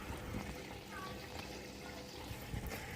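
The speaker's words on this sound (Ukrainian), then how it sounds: "Вода набирається." Water flows and hisses steadily into a Bosch Serie 4 WAN28280UA washing machine as it fills on a quick 40° cycle, a low, even rushing with faint clicks.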